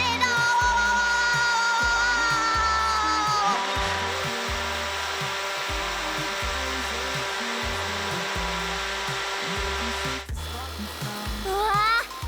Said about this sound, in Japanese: これは大型ブロワーといって煙やガスなどを素早く外に出す装備